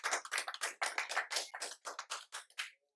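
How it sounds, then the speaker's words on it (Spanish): A church congregation claps in a series of about a dozen sharp, fairly quiet bursts in a brisk rhythm, ending abruptly. "Démosle un aplauso fuerte al Señor."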